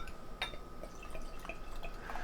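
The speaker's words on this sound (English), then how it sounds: "That pours out like a big Imperial Stout." Barrel-aged imperial stout, aged two years in Willet bourbon barrels, is poured into a glass, heard as quiet, close liquid trickling with a few distinct drips and splashes.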